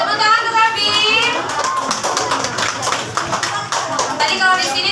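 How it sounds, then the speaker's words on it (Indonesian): Children clap for a child named Abi in a classroom during a teaching practice lesson, a brisk burst of many small hands close by, with kids' voices chattering over it throughout. "tepuk tangan untuk Abi"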